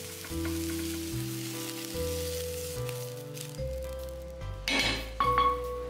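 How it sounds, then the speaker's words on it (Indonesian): Eggplant sautéed briefly in a pan for ratatouille, a steady close sizzle with light clinks of utensil against pan, louder bursts near the end, over a background of music. "terong juga tidak boleh matang di tumis sebentar aja"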